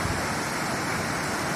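Raging floodwater rushes in a steady, loud, dense roar with whitecaps churning, close by and unbroken, with no voices.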